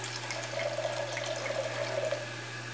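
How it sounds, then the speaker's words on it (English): A drink is poured into a glass, a faint, steady liquid trickle lasting a few seconds under a low background hum. "we're gonna pour ourselves a glass"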